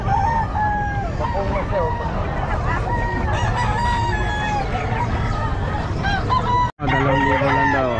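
Several roosters crow repeatedly and overlap, loud and close, with clucking fowl and faint voices mixed in, at a pet market.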